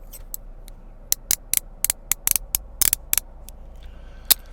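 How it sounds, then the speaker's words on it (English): Handcuffs clicking shut give sharp metallic clicks and ratchets, some in quick doubles and triples, scattered irregularly over a quiet background, close by. "Every day they will be put in these cuffs"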